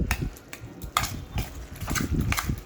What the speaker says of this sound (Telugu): క్యారెట్, ఆనియన్స్, మయోనీస్ వేసి కలపాలి.